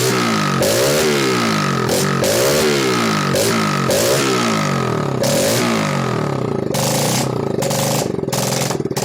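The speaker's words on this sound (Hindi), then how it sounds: "यहाँ पे 2 स्टेप से हम इस इंजन को स्टार्ट किए और इसका जो आरपीएम है उसे बढ़ाए" A fuel-injected engine, started by its self-starter, revs repeatedly as the throttle body is opened, with rising and falling bursts of RPM over a steady idle clatter, close and loud.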